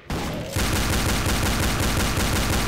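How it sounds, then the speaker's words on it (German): The character Ash firing in the video game Codename Cure, a fast, continuous stream of shots with a tight, steady rhythm that stays loud and close throughout after a brief lead-in. "Die schießt echt schnell."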